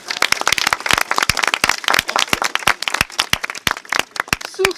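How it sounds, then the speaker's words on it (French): Small audience at a seniors' centre event applauding, distinct individual claps in a sparse irregular patter, close and clear, nothing else over it. "Nous pouvons les applaudir."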